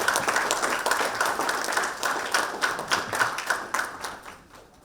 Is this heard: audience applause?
yes